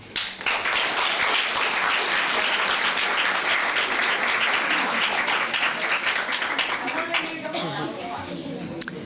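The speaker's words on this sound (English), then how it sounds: "let's give all of our participants another round of applause" Loud, sustained applause from a crowd, steady clapping that carries on throughout with a few voices mixed in.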